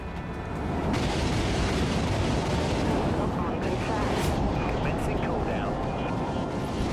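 Vulture missiles exploding in the space shooter game Dreadnought: a loud, continuous rumbling barrage of booms and blasts that swells after the first second and keeps going, with a voice talking over it.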